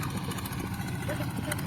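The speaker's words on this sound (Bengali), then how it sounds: "এইখানে ট্রলারের আসলে অনেক শব্দ" A trawler boat's engine drones steadily on the Padma river near Ishwardi, a continuous noisy rumble with faint voices murmuring underneath.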